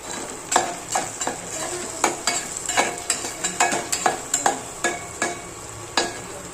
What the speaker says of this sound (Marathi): चांगली फोडणी बसली बघा, एवढी भारी.